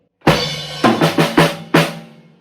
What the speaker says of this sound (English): add a bass drum to the tom hit as well. So the fill would sound like this